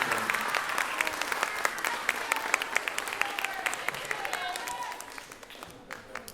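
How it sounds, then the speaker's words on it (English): Audience applause for a middle school orchestra at a spring concert: a warm, steady wash of clapping mixed with crowd voices, gradually thinning toward the end. "give a big round of applause for the Somers Middle School Orchestra"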